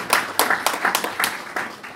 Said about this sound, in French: Est-ce que vous voulez bien l'applaudir?